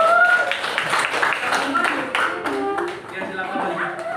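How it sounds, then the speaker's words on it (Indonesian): A classroom group is applauded with a burst of scattered hand claps that runs under and between a speaking voice, fading slightly toward the end. "tepuk tangan buat kelompok"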